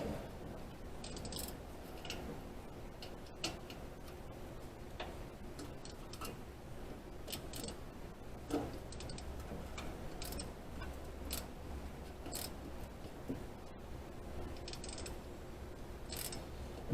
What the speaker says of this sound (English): Be careful when you're ratcheting, you don't hit a wire like I've got down here.